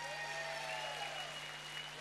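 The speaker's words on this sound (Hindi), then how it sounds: "जोरदार तालियां राजेश जी के लिए एक बार फिर" Steady applause from an audience at a fundraising event, honouring a guest named Rajesh, a quiet continuous patter of clapping over a low hum.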